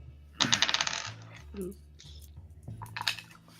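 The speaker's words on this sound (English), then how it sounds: "I roll like so many dice." A handful of dice clatter as they are rolled during a tabletop game session, a quick cluster of sharp rattling clicks, close and fairly faint, followed by softer knocks with talk around them.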